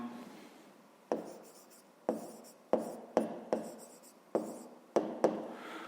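Pen or chalk strokes writing out a maths problem, nine sharp taps and scratches in an irregular rhythm, close and clear with no talking.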